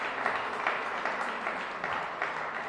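An audience at a DC Council Black History Month celebration gives a presenter a round of applause, the clapping soft and distant, rising and falling gently across the short stretch.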